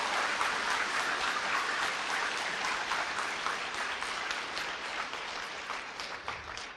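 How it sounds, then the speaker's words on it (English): An audience applauds steadily to welcome a spiritual speaker at a Brahma Kumaris talk in Silicon Valley, a dense, even wash of many hands clapping that slowly fades. "let us welcome with grand applause"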